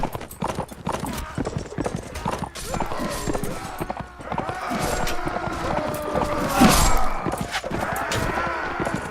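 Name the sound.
horse hooves in Mount and Blade Warband video game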